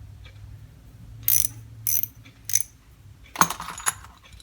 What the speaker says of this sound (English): Couple of ratchet handles.